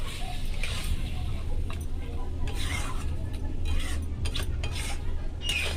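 Salted meat being stirred with spices in a pot at home, a steady scraping and clinking of a spoon against the metal pot over a low background hum, fairly close and continuous.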